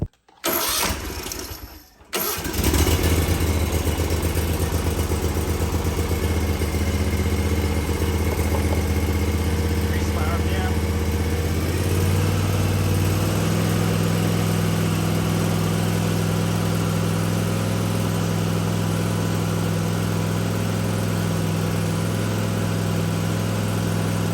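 Car engine cranks and starts after a brief pause, then runs steadily at raised RPM with a strong low hum during a battery and alternator test, loud and alone without talk.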